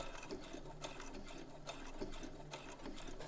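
A sewing machine stitches the collar of a dress, its motor whirring steadily with a fast needle chatter and small rhythmic surges, close and moderately loud with no talking.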